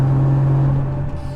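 A 1000-horsepower Toyota Supra engine runs close by with a steady, low droning hum that dips slightly near the end; there is no talk over it.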